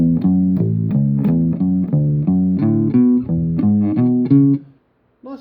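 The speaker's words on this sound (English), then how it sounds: "This is based on a very simple major arpeggio with a bit of a" Simple major arpeggio with a walking feel played on a fretted instrument, clean plucked notes in a steady even rhythm for about four and a half seconds, then fading to near silence; no voices.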